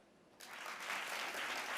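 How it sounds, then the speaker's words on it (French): An audience at a podcast awards ceremony breaks into applause after a short quiet moment. The dense, distant crowd clapping rises quickly and then holds steady. "Applaudissez les podcasteurs et podcasteuses tout court."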